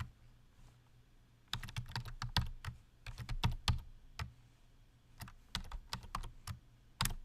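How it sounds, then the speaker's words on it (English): Someone types an email address on a computer keyboard, a close, crisp run of key clicks in irregular bursts after a quiet opening second, with no talking. "I'm going to type that in now."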